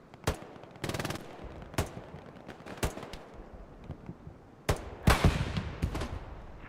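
Machine gun fire rattles in the Hell Let Loose World War II game on the Hurtgen map, with sharp single shots and short bursts at varying distances that build into a louder cluster of fire near the end.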